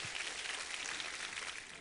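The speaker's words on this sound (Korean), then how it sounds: "우리 하나님께 감사와 영광의 박수 올려드리겠습니다" A church congregation claps together in praise during a Christmas worship service, a soft, even patter of applause that holds steady and fades slightly at the end.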